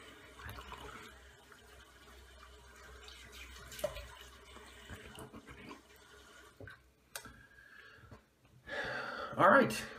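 Cold tap water runs steadily for a post-shave rinse, a soft continuous splash under a person talking, with louder splashing near the end.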